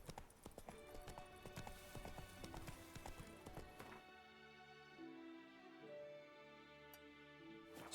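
Hooves of Roach, Geralt's horse in The Witcher 3, clip-clop in quick rhythmic beats that slow and fade midway, under game music.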